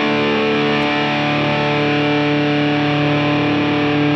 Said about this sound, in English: For me, this is already very fuzz-like territory. Still a little bit between distortion and fuzz, but just getting towards fuzz.